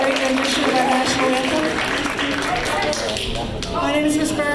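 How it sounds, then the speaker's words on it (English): Audience applause for JROTC students at a school flag rededication ceremony, steady clapping throughout with a voice speaking over it. "Give a round of applause for our JROTC students for helping us out today"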